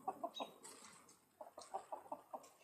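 Backyard chickens cluck in short, soft bursts, several quiet calls close together against a near-silent background.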